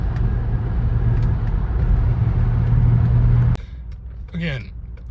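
An Audi car engine that misfires below 1500 RPM holds a loud, steady high-RPM roar for about three and a half seconds, then cuts off sharply, leaving a faint hum and a brief whine.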